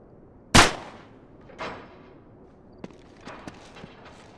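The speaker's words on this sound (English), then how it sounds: "Back up, I'll shoot the lock." In Uncharted 3: Drake's Deception, a single sharp gunshot aimed at a lock cracks loudly and up close. A softer echoing report follows a second later, then a few faint clicks and taps.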